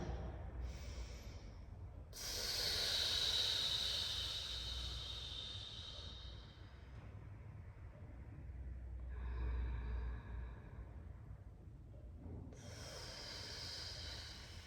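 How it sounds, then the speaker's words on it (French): Slow breaths pushed out through a drinking straw as a relaxation exercise, soft airy hisses in several long exhalations with quiet pauses between, close and alone without talk. "Vous pouvez revenir à l'expiration dans la paille."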